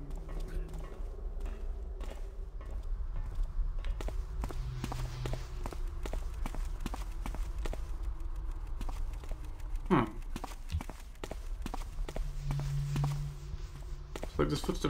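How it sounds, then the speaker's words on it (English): Footsteps in a Thief fan mission, a steady series of soft, fairly distant treads pattering along over a low ambient drone, with a louder scrape in the middle. "why am I hearing footsteps from the right?"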